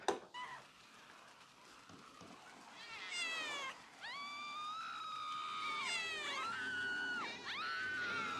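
A cat meows repeatedly in a GTA zombie mod game, a series of clear, drawn-out rising and falling calls spread over several seconds against a quiet background.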